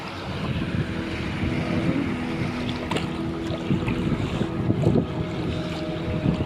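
Big sea waves wash around a small boat out at sea, a constant rumbling slosh mixed with engine-like drone and gusting wind buffeting the microphone, close and steady with no talk.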